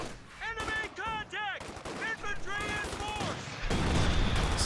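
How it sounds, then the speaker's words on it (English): Mortar fire in the strategy video game Company of Heroes 2 bursts in as a loud, dense rumble of blasts near the end, following stretches of someone talking over faint in-game battle noise. "So that mortar's off to a great start there, 3 kills."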